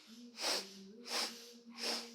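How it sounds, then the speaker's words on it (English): Breathwork practice of quick sniffs in through the nose, three short, close, breathy nasal bursts in a steady rhythm over a low droning background tone. "4 quick sniffs in."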